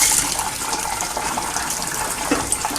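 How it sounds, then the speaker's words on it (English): Pressurised water from a wand with a 90-degree elbow at its tip sprays inside a steam boiler during washout, a steady broadband hiss and splash that fills the interior, continuous and fairly loud with no talking. "I'm just spinning this wand so I can wash everywhere in the boiler"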